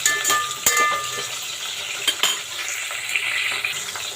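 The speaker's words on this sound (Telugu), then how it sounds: "చూడండి ఆనియన్స్ ఎలా మగ్గుతున్నాయో ఇప్పుడు ఇందులో మనం పచ్చిమిర్చి వేసుకుందాము" Onions and green chillies frying in a pan of oil for pulao, with a steady soft sizzle, occasional stirring scrapes and a few sharp utensil clinks against the pan.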